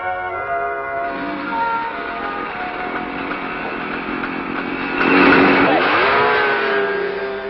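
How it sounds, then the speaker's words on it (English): A new Kawasaki motorcycle from 1972 speeding along a factory test course, its engine a loud steady whine that swells and shifts pitch as it passes close by. "Now you see a new motorcycle zoom through on the test course built on the premises of the plant for speed tests"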